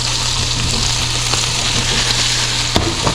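Beef and sauce sizzle and caramelize in a hot pan, a loud, steady close-up frying crackle with a low hum underneath and a couple of brief sharper pops near the end.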